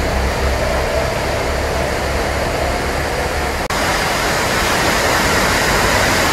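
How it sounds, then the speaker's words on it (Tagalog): Alalum Falls, a 150-ft waterfall in Sumilao, Bukidnon, heard as a loud, steady roar of falling water, continuous and dense throughout with no talking. "Mataas ang waterfalls na to."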